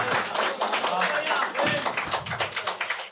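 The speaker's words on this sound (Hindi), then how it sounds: "जोरदार तालियां भाई" Brief scattered applause from the audience at a Hindi poetry reading, a few quick bursts of clapping that are fairly soft and close, mixed with voices.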